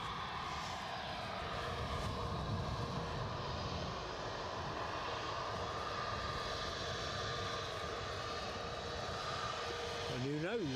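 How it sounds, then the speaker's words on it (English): An SAS Airbus A320neo jet airliner rumbles steadily at Edinburgh Airport, a moderate continuous engine drone heard at some distance, with people talking nearby. "The 320 Neo."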